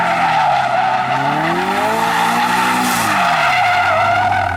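Car drifting on a street after a clutch kick, engine revving in rising and falling pitch beneath a loud, sustained tire squeal lasting several seconds.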